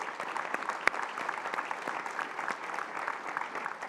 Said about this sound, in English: So how about a round of applause for our elected officials?